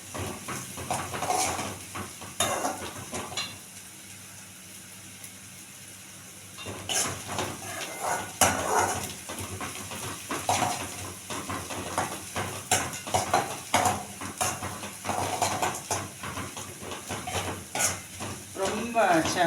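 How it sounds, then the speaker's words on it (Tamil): Onions sauté in a pan for a Tamil masala kulambu, with intermittent clinks and scrapes of a spoon stirring against the pan over a soft sizzle, broken by a quieter pause, while someone talks at times. "வெங்காயம் கொஞ்சம் வதங்கட்டும்."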